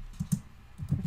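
Several quick keystrokes on a computer keyboard while entering numbers into a spreadsheet, soft clicks in two short bursts.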